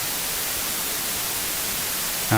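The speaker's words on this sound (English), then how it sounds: "When you speak, the white noise is partially ducked." Steady broadband white noise hisses loudly and continuously on its own, with no voice over it, holding an even level throughout before a slight shift at the very end.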